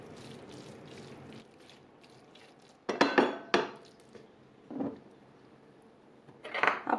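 Metal utensil clinks and scrapes against a bowl while grated cheese is stirred into a cooled mushroom filling for a mushroom pie; a few sparse, fairly quiet knocks stand out over soft background rustle, with no talking.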